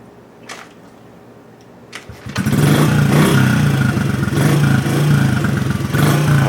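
A Honda CRF 50 dirt bike engine, freshly reassembled after a kill switch replacement, fires up after a couple of faint clicks and settles into a loud, steady, buzzy idle close by, with no talking.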